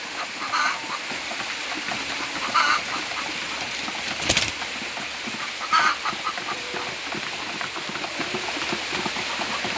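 A home coop of roughly a hundred laying hens gives off soft, continuous clucking with occasional short, sharper calls and one brief knock, all fairly faint against steady ambient noise.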